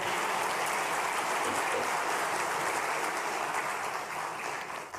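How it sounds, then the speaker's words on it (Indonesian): Dense, continuous applause from a crowd at an Islamic scholars' gathering greeting Kiai Said Akil Siraj, a uniform wash of clapping heard from a distance that eases slightly near the end. "Tepuk tangan untuk Kiai Said."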